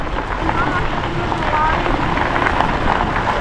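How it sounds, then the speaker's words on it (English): Rain falling outdoors on a salt-lake coastal drive, a dense steady hiss mixed with wind buffeting the microphone throughout, with voices talking over it. "Oh, rain! It's raining!"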